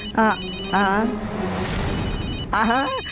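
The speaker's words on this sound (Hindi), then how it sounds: "लगातार रिंग होते होते अपने आप फोन कट जाएगा" A mobile phone rings with an incoming call: three bursts of a bright, warbling melodic ringtone, each rising and repeating, with short gaps between them and a steady low hum underneath.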